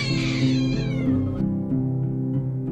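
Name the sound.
cat meowing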